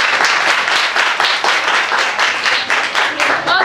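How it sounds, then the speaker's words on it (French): Steady, dense applause from a seated audience fills the room at a youth leadership academy launch event, loud and continuous with no pauses, carrying no speech over it. "un applaudissement pour vous"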